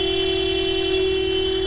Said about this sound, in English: I'm going to guess honking would make more sense